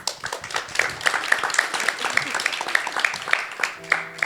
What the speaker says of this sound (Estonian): Aga teeme suure aplausi, palun.